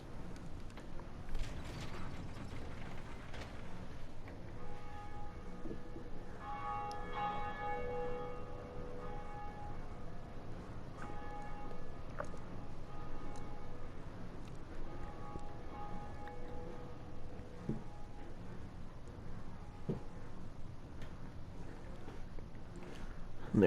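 In Dark Souls Remastered, the first of two bells is rung, with clanking mechanisms and creaking gears building to sustained, resonant church-bell tolls that ring out over a long stretch.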